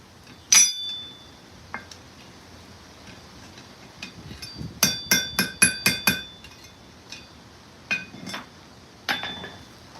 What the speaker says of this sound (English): Making a rivet head right now for a pair of tongs.